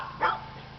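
A Vizsla dog on a homestead gives a single short bark, fairly quiet and somewhat distant, over a low steady background hum.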